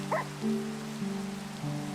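Rain falls in the Minecraft video game as a steady, even hiss, heard alongside sustained low tones that shift in pitch.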